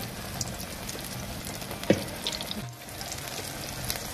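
Cabbage pakoras frying in hot oil, a continuous low crackling sizzle with a faint clink as pieces drop in.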